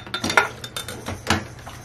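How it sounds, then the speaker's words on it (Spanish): Mote (hominy) being added to a blender for Peruvian tamal dough, heard as a quick run of close, bright clinks and clatters as the kernels hit the jar, with no talking. "Vamos agregando mote a nuestra licuadora."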